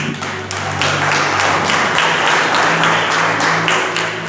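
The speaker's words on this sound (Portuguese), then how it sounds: "aplauda os céus bem forte." A church congregation applauds loudly, dense sustained clapping that swells and holds steady with a faint organ-like tone underneath.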